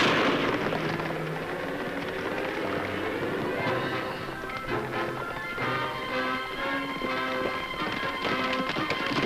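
A horse gallops in a Lone Ranger western pursuit, with rapid continuous hoofbeats running for the whole stretch inside a dense, busy mix of other sound.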